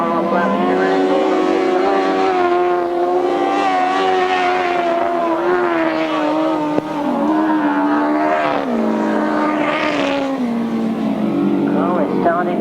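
Grasstrack racing motorcycles rounding the pit bend, engines wailing and rising and falling in pitch as they pass, loud and continuous, with other bikes blending in behind.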